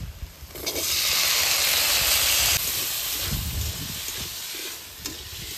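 Medium potatoes cut into small pieces sizzle loudly as they are tossed into a spice mixture in a pan, a strong hissing fry with stirring scrapes that eases slightly later.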